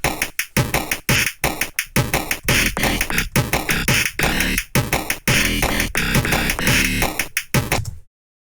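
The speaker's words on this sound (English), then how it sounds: "chiptune, bit crushed, 8-bit kind of sound." A drum pattern processed through the Ableton Redux bit crusher for a gritty chiptune, 8-bit character, punchy and loud with steady repeating hits and short gaps, ending abruptly.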